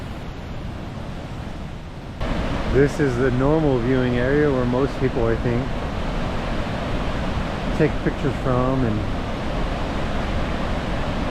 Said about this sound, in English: look at this incredible waterfall